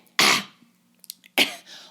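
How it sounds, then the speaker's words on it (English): Two loud, harsh throat clearings close to the microphone, separated by a short pause with a few small clicks and breaths between. "I'm constantly clearing my throat."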